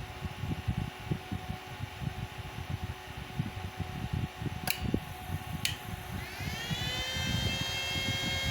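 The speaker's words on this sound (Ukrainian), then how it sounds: "заверещав вентилятор, це той, що на 220" A 220 V cooling fan in a Victor Max 10.2 kW unit under repair spins up to a high, steady whine that rises in pitch and holds, over a background of rapid ticking and mechanical clatter.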